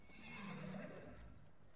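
A horse in the video game Ghost of Tsushima gives a short, quiet whinny, with the soft thud of hooves in the background.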